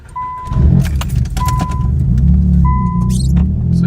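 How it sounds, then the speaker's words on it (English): A car engine cranks and starts, then settles into a loud, slightly uneven idle that rumbles up and down, close by, with a chime tone sounding and keys jangling over it. "I'll start the car to see if it makes the noise right now"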